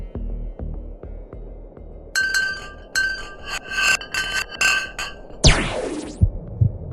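An ice chunk dropped down a deep borehole in ice sets off a run of rhythmic, ringing metallic pulses, then a sharp whistling sweep that falls from high to low pitch, with scattered low thumps.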